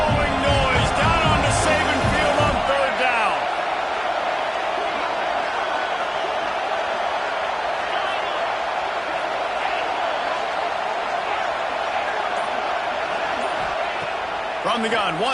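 Dense, steady Alabama Crimson Tide stadium crowd roar on third down in College Football 26 fills the whole stretch, loud and continuous, with a brief whoop and some chatter early on.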